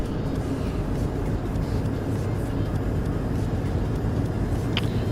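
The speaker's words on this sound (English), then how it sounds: "I really like the sound of this truck from the inside" Smooth, steady engine drone heard from inside a truck cab in a truck driving video game, a constant hum with broadband road noise and a brief faint chirp near the end.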